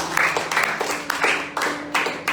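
Church congregation clapping during an Indonesian sermon, several rhythmic bursts of group handclaps at a steady pace, moderately close.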